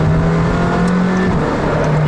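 A McLaren Senna's engine drones loud and close under hard acceleration, a steady strained roar that dips slightly in pitch midway and carries on without pause.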